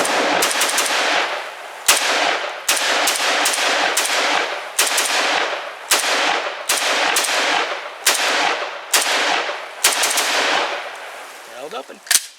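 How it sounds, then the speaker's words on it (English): A SIG 550 rifle fires about a dozen loud, close, crisp shots in an irregular sequence, each one ringing briefly before the next. "let's move on to rifles firing rifle bullets from rifle barrels"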